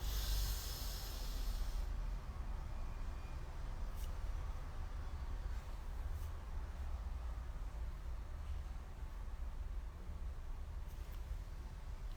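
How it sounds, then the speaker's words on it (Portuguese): A person does a slow breathing exercise, a long airy inhale near the start, a quiet held pause, then a soft prolonged exhale, all close and faint against a hissy background, with no talking. "Então eu vou começar inspirando, contando até 4, vou prender a respiração e vou soltar."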